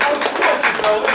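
A comedy show audience claps in a dense, steady burst of applause, close and fairly loud, with voices mixed in underneath.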